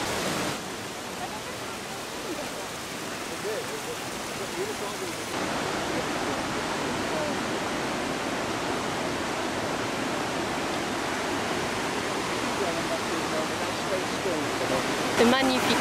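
Rushing water beside a walking path in Škocjan park, Slovenia, a constant broad roar heard close and loud for the whole stretch, becoming slightly fuller partway through.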